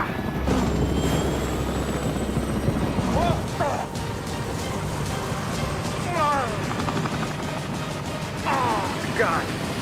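Helicopter stunt for a Mission: Impossible film, diving and corkscrewing down: a steady loud rotor and engine drone throughout, with people shouting and talking over it.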